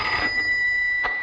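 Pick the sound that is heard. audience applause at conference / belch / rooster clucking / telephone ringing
telephone ringing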